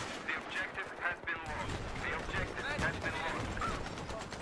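Gunfire in Battlefield 3 on the Epicenter map in hardcore mode: rapid, fairly faint shots come in scattered bursts with some distant crackle, while people talk over them.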